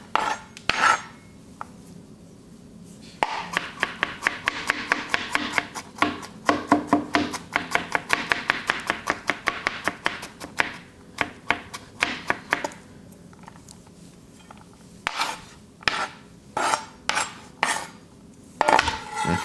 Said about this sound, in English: I'm so not used to the sound of a cutting board that's not the wooden one